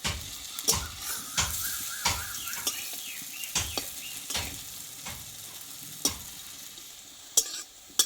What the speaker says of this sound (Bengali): দেখো বন্ধুরা ডালের বড়াগুলো কিন্তু খুব সুন্দরভাবে দুই পিট আমি ভালো করে ভেজে নিয়েছি